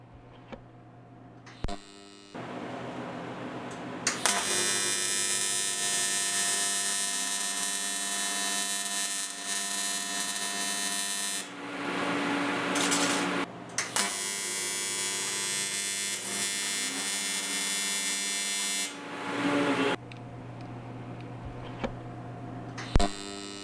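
AC TIG brazing on a Miller Dynasty 400 welder at 100 Hz with standard balance: a loud, steady buzzing arc hum that runs in two long stretches with a brief break between, fading out near the end.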